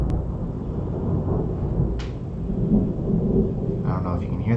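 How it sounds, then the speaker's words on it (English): Thunder rumbling outside during a storm, a continuous low roll under steady rain noise, fairly close and persistent throughout with a brief crack partway. "don't know if you can hear that, it's thundering outside"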